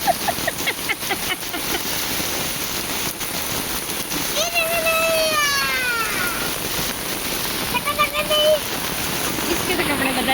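Heavy rain falls steadily under trees during a stormy spell in China, a dense constant wash throughout with a few whistling, bird-like tones rising over it midway.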